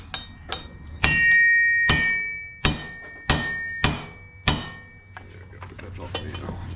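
Sharp metallic hammer blows ring out one after another, about eight strikes at uneven intervals, with a lingering metallic ring and a low hum beneath.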